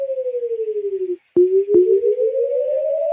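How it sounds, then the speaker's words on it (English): A pure electronic tone slowly sweeps down, breaks off with a couple of clicks, then sweeps upward again, pulsing steadily like an alert siren. "And that's what a tornado warning would sound like."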